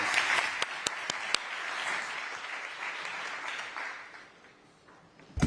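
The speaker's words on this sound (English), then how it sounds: "Please join me in giving them a round of applause." A conference audience applauds warmly, a steady wash of clapping with a few sharp claps standing out, gradually fading toward the end.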